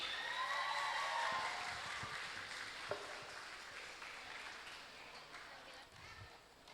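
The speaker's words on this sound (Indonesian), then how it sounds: "Tepuk tangan untuk para alumni." Audience applause for returning alumni at a vocational high school skills exam event in Padang, Indonesia; fairly faint, steady, roomy clapping spread across the room for several seconds, with faint voices mixed in.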